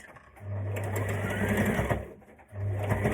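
A sewing machine zigzag-stitches the hem of a maxi skirt, running in a steady close whirr, briefly stopping, then starting again.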